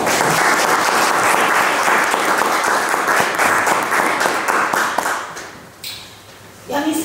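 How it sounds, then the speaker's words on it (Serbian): An audience at a novel's book launch gives a big, warm round of applause to welcome a guest, steady dense clapping for about six seconds that thins out before a voice begins to speak. "Pa bih vas zamolila da jednim velikim i toplim aplauzom dobrodošlice"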